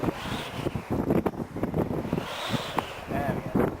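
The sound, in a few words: strong wind while flying a power kite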